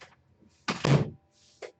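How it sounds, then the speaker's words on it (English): A door swings shut indoors with a single solid thunk, a short close-range thud with a brief tail, set between quiet stretches and faint movement. "I closed my door."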